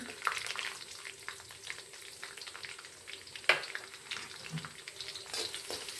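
Peanuts frying in hot oil in a home kitchen pan with curry leaves, green chili and onion, a steady close sizzle with occasional stirring scrapes and one sharp clink of a utensil partway through.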